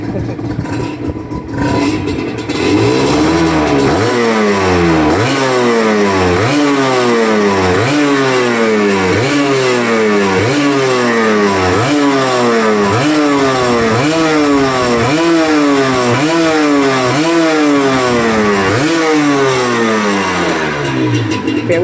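A Honda NSR150SP two-stroke motorcycle engine revs hard and repeatedly, close up and loud, in a steady rising-and-falling rhythm of about a dozen throttle blips that follow a few seconds of idle.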